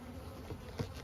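Honey bees buzz close and steady during a hive inspection at sunset, a continuous low drone with a couple of brief louder swells.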